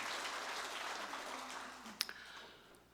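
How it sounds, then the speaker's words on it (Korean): A church congregation at a Sunday worship service claps in a broad wash of applause that slowly fades away, with one sharper clap standing out near the end. "우리 찬양 받으신 주님께 영광의 박수."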